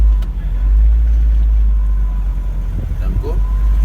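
A car's engine drones steadily and loudly inside the cabin on the road during a driving lesson, a deep continuous rumble with a slight rise in pitch near the end, while an instructor and learner talk over it.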